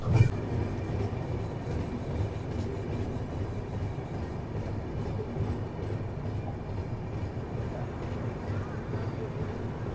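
Padatik Express passenger train heard from inside a carriage near Bolpur Shantiniketan station, a steady low rumble with wind noise that stays level for the whole span after a brief louder knock at the start.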